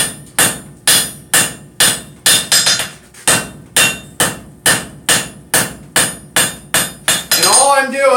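A hammer forges metal on an anvil, drawing it out on the flat: about sixteen loud, close ringing blows in a steady rhythm, each with a short metallic decay, with a brief pause midway and a scrape at the end.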